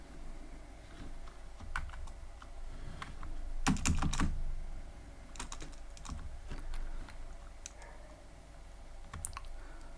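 Computer keyboard typing while writing Python code: soft, close key taps in irregular runs, with a dense cluster of clicks midway and a faint steady hum underneath, no voices.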